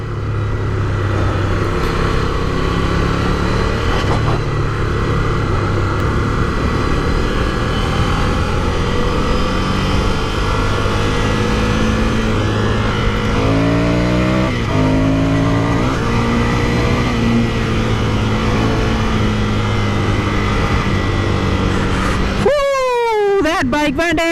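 Ducati Scrambler Desert Sled 803cc L-twin motorcycle ridden off-road on bumpy desert-style terrain, its engine droning steadily throughout with rising and falling revs, loud and close, while a rider talks over it; a sharp rev burst near the end.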